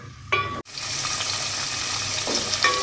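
Carrots sizzling steadily in a hot pan while a spoon stirs them, with a couple of brief scraping clatters and a short break in the frying hiss.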